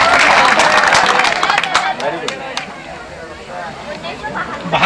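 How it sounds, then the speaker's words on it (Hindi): Schoolchildren and attendees at a forest range outreach session in Parasia Range, West Chhindwara, applaud loudly after a correct quiz answer, a burst of dense, sharp clapping that thins and fades with crowd murmur underneath. "जोरदार तालियां बजाइए।"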